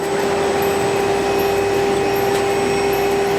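A water pump runs under a Vodoliy Pro electronic pressure controller, a loud, constant close-up hum with a steady tonal whine that holds without change.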